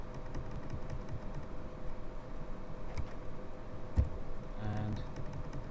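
Quick, light keystrokes on a computer keyboard tap out a short entry, faint and close, with a slightly louder key press near the end.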